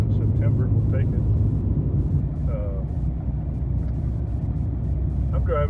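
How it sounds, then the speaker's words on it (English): A 1999 Ford F250 extended cab pickup driving on a snowy road, its low engine and road rumble droning steadily from inside the cab while someone talks over it. "I'm driving a different pickup too since we talked"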